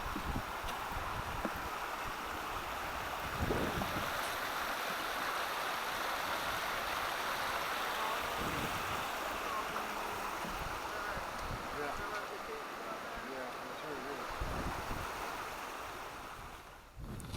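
A river flows steadily beside a hiking trail in Hidden Valley, a continuous broadband rush of water mixed with gusts of wind across the microphone, with a few soft thumps that may be footsteps.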